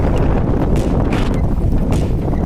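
Strong wind buffets the microphone in a constant low roar, with gusty surges and no voices, while riding a bicycle into a headwind.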